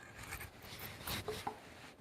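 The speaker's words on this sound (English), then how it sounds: "This chisel is very, very, very sharp." A very sharp chisel paring wood on a timber frame corner brace in a workshop, soft close shaving and scraping strokes in a quiet room, with faint brief knocks.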